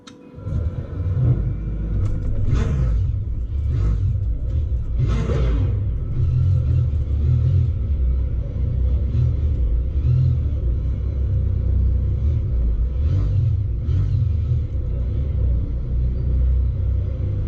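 Race car engines rumble and rev together at the start of a race in the Le Mans Ultimate game, a steady loud drone of low engine noise running throughout with a few brief higher revving swells.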